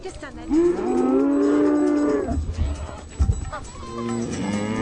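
Cattle lowing loudly and close by, with a long drawn-out moo followed by further deep calls and some rustling. No voices are heard.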